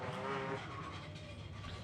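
An SR20-powered Nissan Silvia drift car on track in qualifying, its engine droning and tires hissing in a steady, distant roar with no pauses.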